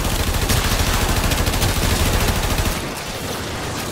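Automatic gunfire from a weapon in the video game Warframe sounds as a loud, rapid, sustained burst of dense shots, then cuts off into a quieter ambient tail near the end.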